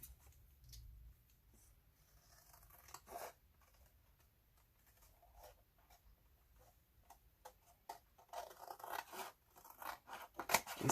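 Scissors snipping away excess paper or cardstock from a small covered notebook, faint close cuts and rustles, sparse at first and busier toward the end.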